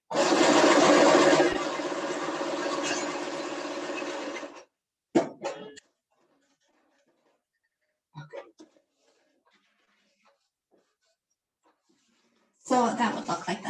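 A sewing machine runs a zigzag stitch on fabric for a fabric planter project, whirring steadily for about four seconds before stopping; a few soft handling clicks follow, then a person starts speaking.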